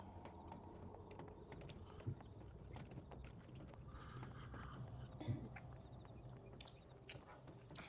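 A horse-drawn carriage sound effect plays softly: steady, rhythmic hoof clip-clops over faint background ambience, with a couple of slightly louder knocks.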